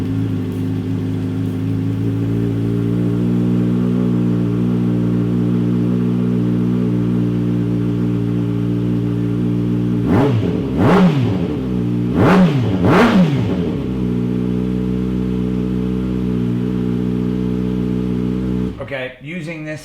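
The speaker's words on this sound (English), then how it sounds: "We're gonna go ahead and fire the bike up before I put this fairing back on." A Kawasaki Ninja ZX6R with an M4 exhaust, fairing removed, idles with a steady loud rumble, then gives two sharp revs that rise and fall before it shuts off.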